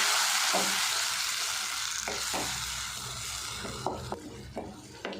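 Steady frying sizzle as curry leaves and tomato sauté in a pan for bitter gourd gravy, with occasional stirring scrapes and light clinks, continuous and close, no voices.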